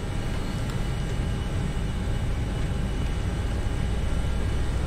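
Airbus A321 engines in the FSLabs add-on for the Prepar3D flight simulator, spooled to takeoff thrust: a steady, loud, broadband roar that holds even and unbroken throughout.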